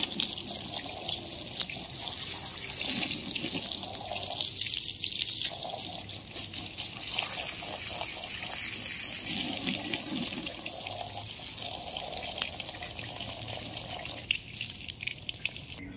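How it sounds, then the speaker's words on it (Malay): Tap water runs steadily into a sink while something is washed clean with soap, a continuous close splashing and trickling with small shifts as hands move under the stream, no voices. "Cuci bersih-bersih."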